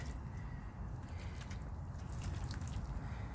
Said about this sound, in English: I am going to water him in real good